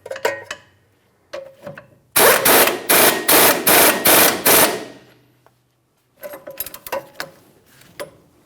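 A wrench tightens the axle nut on a 2011-2021 Jeep Grand Cherokee during a front CV axle replacement, making a loud burst of rapid ratcheting clicks in a quick even rhythm, with scattered softer tool clicks and handling noises before and after.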